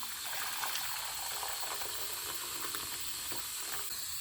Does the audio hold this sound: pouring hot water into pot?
yes